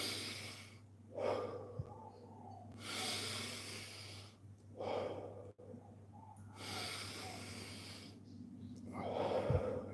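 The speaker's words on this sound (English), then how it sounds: "let me start doing some deep breaths" A man takes slow deep breaths, with long rushing inhales and exhales, close and loud, repeated several times with short quiet gaps between them.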